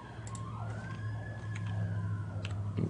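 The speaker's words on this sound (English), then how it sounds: "there's an ambulance going by" An ambulance siren passing by, its wailing tone rising and falling at moderate distance over a low steady hum, with faint traffic noise and no talking.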